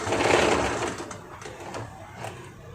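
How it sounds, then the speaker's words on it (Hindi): A sewing machine runs a seam on kameez fabric, its rapid needle chatter loud at first and then settling into a steadier, slightly quieter mechanical patter over a few seconds, with no voices. "अब मशीन की नोक सेम ये चुटके के एकदम यहाँ तक से सिलाई करनी है"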